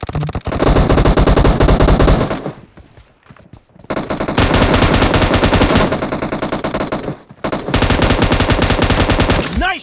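Sustained automatic gunfire from the PUBG video game, loud and dense bursts with two brief pauses, close and dominating, with no voices.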